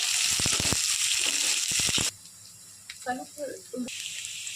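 Onion sautéing in oil with curry leaves in a pan, a loud hissing sizzle with crackles that drops away midway, a short stretch of voice, then the sizzle returns.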